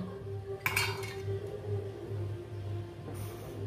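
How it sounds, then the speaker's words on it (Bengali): Shelled corn kernels tipped into a mixer grinder jar, producing a brief bright clatter of hard kernels striking the jar, then a low steady kitchen hum with a faint clink near the end. "এগুলোকে মিক্সি জারের মধ্যে দিয়ে দিচ্ছি সবটা"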